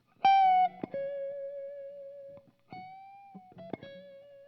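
An electric guitar lick through effects, with a few plucked notes and a long sustained tone, then a short repeat of the phrase. It is played alone and fairly quiet, with some notes ringing out and fading.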